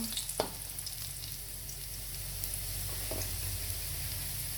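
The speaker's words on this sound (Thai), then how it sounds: "เจียวหอมแดงให้เหลือง" Shallots fry in oil until golden, a soft, continuous sizzle with a couple of brief clinks from a utensil early on.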